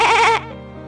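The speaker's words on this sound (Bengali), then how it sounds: "আরে, ওই তো সুখীর ছাগলটা ডাকছে।" A goat gives one loud, close bleat that breaks off after a fraction of a second, leaving a faint fading tail.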